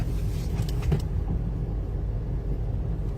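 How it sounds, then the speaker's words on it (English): Cars sit in a small-town traffic jam before a winter festival fireworks show, giving a steady low rumble of idling and slowly moving traffic with a few faint clicks early on. "This is our once a year traffic jam."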